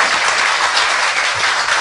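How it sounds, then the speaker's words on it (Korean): A studio audience at a Korean talk show bursts into dense, sustained applause, loud and close, a steady wash of many hands clapping with no talk over it. "다시 한번 박수를 줘야 된다고 생각합니다"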